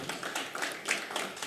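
An audience at a business customer symposium gives a brief round of applause, steady overlapping claps from a crowd heard at moderate distance.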